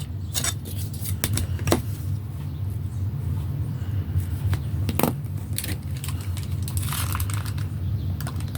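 Scissors snip through paper while trimming a piece for a handmade photo album, a series of brief crisp cuts scattered over a steady low background hum, close and fairly quiet.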